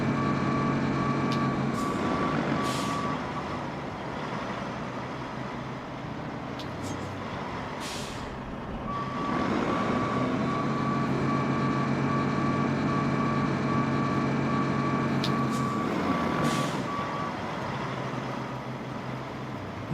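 A heavy truck in the RoadCraft video game rumbles steadily with a loud engine drone while a high reversing beep repeats in regular pulses, pausing once and then resuming, plus a few sharp hisses.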